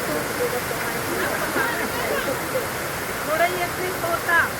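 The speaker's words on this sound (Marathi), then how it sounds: "हा मोठा धबधबा पाण्याचा आवाज" A large monsoon waterfall near a village ringed by mountains roars in a steady, dense rush of falling water, with faint voices above the continuous noise.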